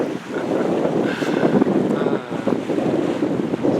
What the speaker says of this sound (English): And I'm out sailing on San Francisco Bay. I feel good. Just the sound of the wind.